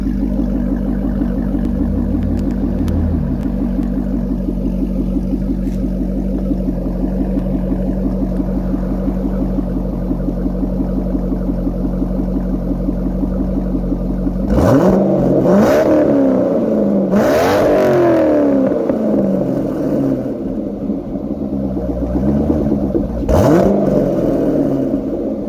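A 2005 Corvette convertible idles with a steady low engine rumble, then revs sharply several times, each blip rising and falling loudly through the exhaust before settling back toward idle.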